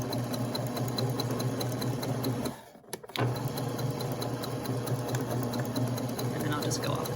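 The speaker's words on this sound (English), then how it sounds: "then I'm just going to sew right along the edge just to anchor the pleats" A sewing machine stitches along the edge of pleats on an outdoor cushion cover, running with a steady, fast mechanical whir close by. It breaks off briefly in the middle, then starts again.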